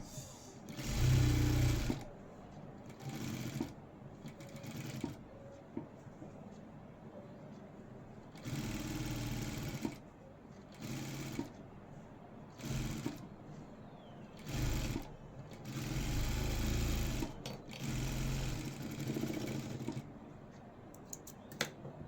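Sewing machine stitching the edge of a blouse where the lining meets the main fabric, running in several short bursts of a few seconds each, separated by quiet pauses.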